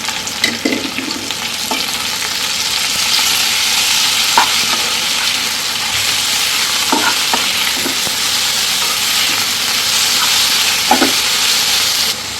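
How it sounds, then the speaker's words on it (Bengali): Leafy greens stir-fry in a pan with onion and garlic, a constant close hiss of sizzling oil broken by scattered clacks of stirring, steady and uninterrupted with no voices. "এখন শাকটা দিয়ে দিচ্ছি।"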